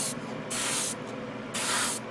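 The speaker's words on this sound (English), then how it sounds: "So I'm going to spray air on it" Air is sprayed onto fresh paint in short, loud hissing bursts, three blasts with brief gaps, close to the listener with no talking.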